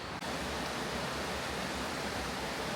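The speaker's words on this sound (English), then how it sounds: "While we're standing on the sidewalk part, you can hear the falls." A waterfall heard from the sidewalk of a bridge with an asphalt deck near a grist mill, giving a steady, loud, broadband roar that holds unbroken for the whole stretch.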